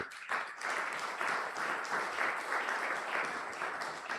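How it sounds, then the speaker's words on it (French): A church congregation at a Sunday praise and thanksgiving service applauds steadily, a dense, sustained clapping from a crowd, moderately close, with no talking over it. "Est-ce qu'on peut acclamer très fort pour la gloire de Jésus?"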